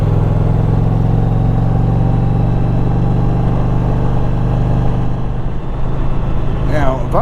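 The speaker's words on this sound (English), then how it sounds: "Listen to that exhaust note, huh? Can you hear it?" A 2021 Indian Challenger Limited motorcycle idles with a steady, deep exhaust rumble that holds an even tone throughout, close to the listener and loud.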